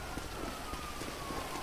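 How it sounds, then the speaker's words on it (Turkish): Steady rain hiss in the GTA 5 video game during a police chase, a broadband wash that stays even throughout with a faint siren-like tone gliding beneath it, no voices. "Ve yağmur yağıyor."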